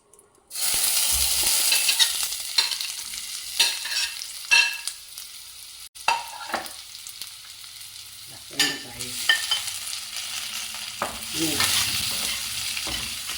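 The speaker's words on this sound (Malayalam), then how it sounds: "ജീരകം കുറച്ച് ജീരകം ഇട്ട് ജീരകം പൊട്ടട്ടെ" Cumin seeds crackle in hot oil for a North Indian aloo bhindi fry, making a bright, continuous sizzle broken by bursts of popping and scraping stirs, loud and close, without talk.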